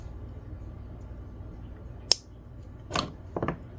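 Wire cutters snip through 18 gauge wire in a wire-wrapped talisman, a sharp single click followed by a couple of softer metallic snaps and handling noises, close and otherwise quiet.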